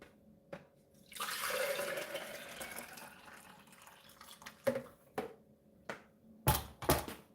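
Fresh juice is poured from one container into another, making a steady liquid stream that rises and fades over a few seconds. A few sharp knocks and clinks of the containers follow.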